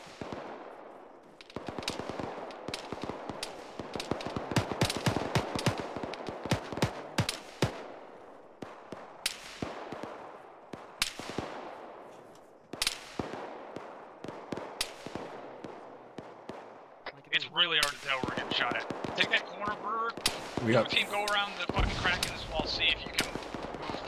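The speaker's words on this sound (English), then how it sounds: "We got friendlies shooting, our friendlies to our north shooting over top of us" Airsoft gunfire during a field exercise, rapid bursts and single shots crackling almost without pause, some close and some overhead from friendly players, with voices talking under the shooting.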